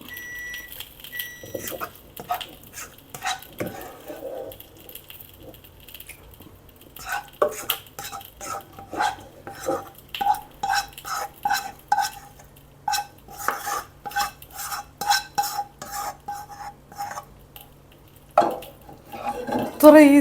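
Biryani masala stirred in a hot pot over low heat: repeated metal spoon scrapes and clinks against the pot in an uneven rhythm, close and fairly loud, with a faint sizzle underneath and quieter pauses early on.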